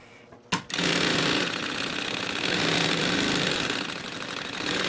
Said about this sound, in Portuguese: Uma costurinha de segurança, só pra segurar mesmo